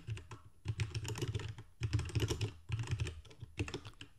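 Steady typing on a computer keyboard while entering text in the Emacs editor, a dense run of close, clicky keystrokes in bursts separated by brief pauses, with no voices.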